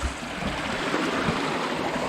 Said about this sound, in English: There is a little waterfall,